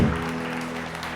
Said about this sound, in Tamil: ஒரு பலத்த கைத்தட்டல்களோட வெல்கம் பண்ணலாம்